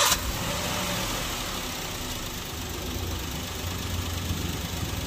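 A Maruti Alto K10 car engine idles just after starting, with new engine mountings fitted: a steady, close, low rumbling hum with a sharp onset at the start and no talking.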